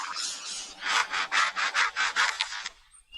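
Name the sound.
lyrebird mimicking a chainsaw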